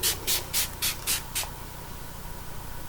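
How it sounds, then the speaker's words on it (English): Six quick spritzes of a rose-scented facial mist sprayed onto the face from a pump bottle, each a short soft hiss in an even rhythm, close and clear, followed by quiet. "I'm going to hold it up halfway and spray my face."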